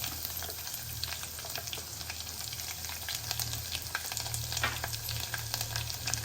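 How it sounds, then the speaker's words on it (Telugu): Garlic fries in hot oil with cumin seeds for a cabbage and raw mango dal, giving a steady, close crackling sizzle with no pauses and no voices. "వెల్లుల్లిపాయలు వేగుతున్నప్పుడు మనం ఎండుమిరపకాయలు వేసాం"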